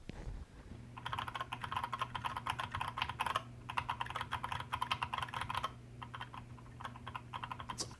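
Steady typing on a Tezzare TK61 optical-switch keyboard, dense rapid clacks running nearly continuously with two brief pauses, close and clear with no voices.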